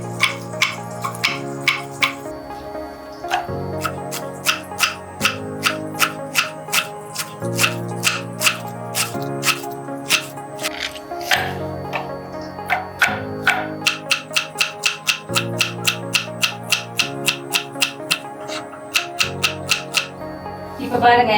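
A knife chops vegetables such as capsicum and carrot on a board while street-style chicken fried rice is prepared, giving steady, quick rhythmic cuts in short bursts with faint background sounds and no talk.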